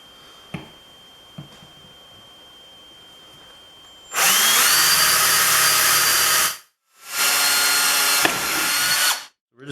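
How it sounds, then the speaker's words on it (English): After a few quiet clicks, a power drill whines loudly through aluminium for about two seconds, stops briefly, then drills again for another burst. "Let's drill these straight through."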